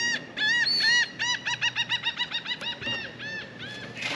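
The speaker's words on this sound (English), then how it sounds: "Oh, the seagulls have come." Seabirds arrive calling over the water on a Florida Keys fishing trip, a loud rapid run of repeated harsh honking cries, close and overlapping, with no talk.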